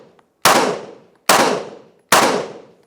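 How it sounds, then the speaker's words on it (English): Handgun shots fired in concealment shooting training crack loudly and close by. There are three sharp reports, evenly spaced about a second apart, each ringing off briefly, with no talk. "5 shots."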